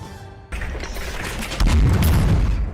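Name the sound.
explosions echoing in the air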